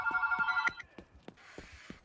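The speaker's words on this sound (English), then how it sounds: "Sorry about the phone call" A household telephone ringing in short repeated electronic trills for about the first two thirds of a second, with one of several cordless and corded phones, followed by quieter clicks and soft hiss.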